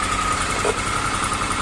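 A small motorbike engine, just reassembled after carburettor work, running at a steady idle close by, its even low rumble continuous throughout.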